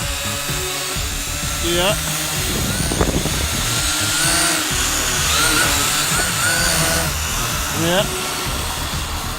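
A Vivitar Aeroview drone, flying again after a flight in the rain, hovers unsteadily in wind with a loud, continuous propeller whine that rises and falls in pitch; a voice briefly speaks over it.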